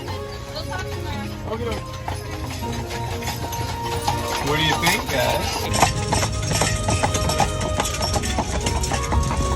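A horse pulling a carriage clip-clops at a steady walking pace on pavement on Mackinac Island, close by, as people talk over the rhythmic clatter.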